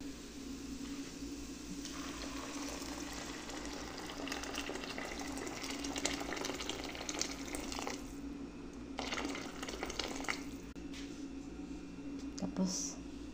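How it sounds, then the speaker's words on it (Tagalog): Hot water poured into a pot of white rice being cooked on a stove gives a steady, moderately loud gushing and splashing wash that runs throughout, with faint talking in the background. "Lagyan ko siya ng tubig na mainit sa bawan, tapos paunukan."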